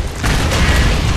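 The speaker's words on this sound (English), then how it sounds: "They killed themselves with explosions." Explosions in the 2013 video game Shadow Warrior go off as a loud, dense burst of booming rumble that fills the whole moment, with no talk over it.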